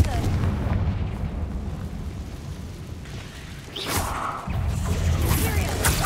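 Confringo explosion spell cast in a Harry Potter video game, a loud sustained rumbling blast with a sharp burst near the middle, then the heavy roar resumes.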